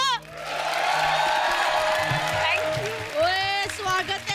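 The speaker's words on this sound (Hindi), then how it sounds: "तालियां बजा दो।" Applause and cheering from a comedy show studio audience fill the clip, close and steady, with music and voices breaking through near the end.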